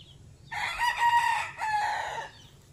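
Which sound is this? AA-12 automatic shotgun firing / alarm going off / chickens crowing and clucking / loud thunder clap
chickens crowing and clucking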